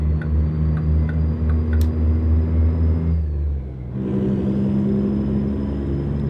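A reworked 1987 Marmon truck engine in American Truck Simulator drones and rumbles steadily, dipping briefly as revs drop before building back up, with faint ticking over the low hum.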